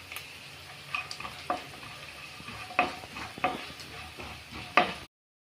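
Raisins added to hot ghee for sheer khurma, a soft sizzle with several sharp spoon clinks and scrapes against the pan, close, before cutting to silence at the end.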